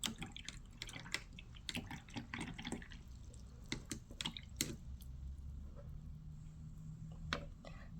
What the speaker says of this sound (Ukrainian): Миємо пензлик і наступна в нас жовта.